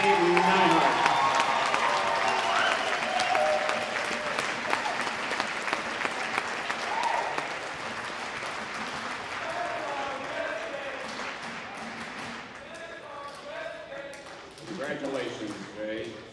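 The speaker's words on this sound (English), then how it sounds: "Please join me in a round of applause as we honor Jay Neihart" Crowd at an honoring ceremony giving a sustained round of applause, steady clapping throughout, with voices talking and calling out over it and the clapping thinning toward the end.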